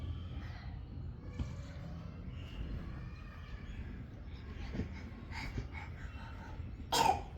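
A child with a cold coughs a few times, indoors and fairly quiet. A sharper, louder cough or throat-clearing burst comes near the end.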